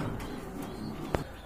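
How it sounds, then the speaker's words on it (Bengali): Pair of racer pigeons giving soft, low coos, faint and brief, with a single sharp click near the end. "এখানে কিন্তু খুবই সুন্দর এক জোড়া রেসার কবুতর আছে"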